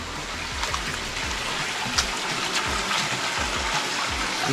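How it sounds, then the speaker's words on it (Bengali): Water of a small waterfall stream flowing through dense jungle near Devtamura, a steady broadband rush with faint splashes, continuous and fairly close, no voices. "ঝর্ণা বয়ে চলেছে"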